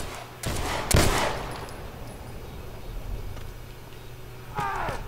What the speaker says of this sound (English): Shoot his ass! Shoot!